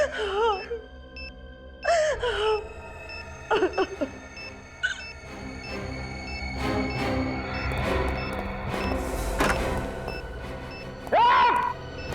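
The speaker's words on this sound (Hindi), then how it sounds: "रोने की आवाज?" Someone crying in a TV crime drama scene, drawn-out wailing sobs and moans that rise and fall in several bouts, with quieter breathy gasps between them over a low background score.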